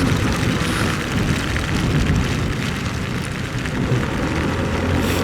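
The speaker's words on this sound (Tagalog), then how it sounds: "Grabe, ang lakas pa rin ng ulan." Heavy rain pours during a solo motorcycle ride through cold, foggy weather on the road from Antipolo to Batangas, a dense, steady roar of rain and wind noise that runs loud and unbroken throughout.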